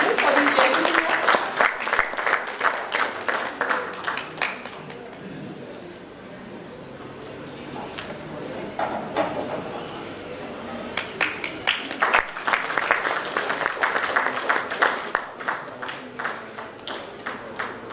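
An audience at a financial inclusion conference breaks into sustained applause, many hands clapping in a dense, rippling patter that dips briefly midway and then swells again, filling the room throughout.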